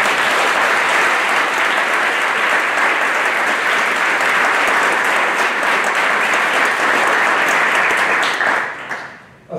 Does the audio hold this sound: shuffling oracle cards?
no